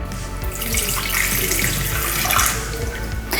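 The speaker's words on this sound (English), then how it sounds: "Add your water into your blender." Water streams steadily into a blender jar for keto chocolate pudding, a continuous close splashing pour lasting a few seconds.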